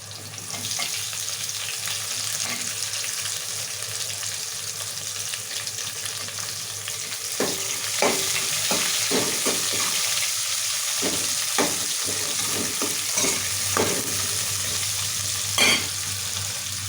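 Onions fry for dal curry in a pan, a soft continuous sizzle under intermittent spoon scrapes and taps that grow more frequent partway through, with a low steady hum in the background.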